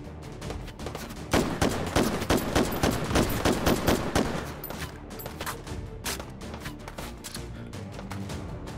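Enemy gunfire in the VR shooter Hot Dogs, Horseshoes & Hand Grenades on the Northest Dakota map: a loud close burst of rapid automatic shots in the middle, framed by scattered sharper single cracks before and after.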